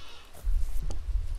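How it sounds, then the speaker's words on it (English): A goat in the horror video game Devour gives a short nasal bleat over a low rumbling background, heard alone at moderate volume. "There's a goat in here, Gary."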